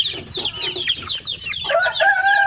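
Native chicks of the Basilan and Zamboanga breeds peep in a dense, overlapping chorus of high, thin chirps, loud and close and continuous throughout.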